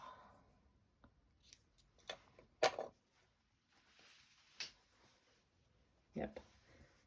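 Scissors snip through a small piece of tablecloth while cutting a circle, in several sharp close cuts scattered among quiet stretches, with a person talking softly in between.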